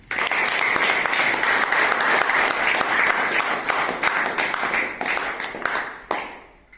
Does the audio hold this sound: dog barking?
no